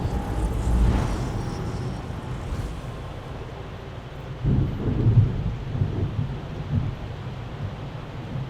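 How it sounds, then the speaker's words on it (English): A thunderstorm in Elder Scrolls Online brings steady rain hiss with deep rolling thunder, one distant rumble early and a heavier crack and roll midway. "Yeah, nice storm going on."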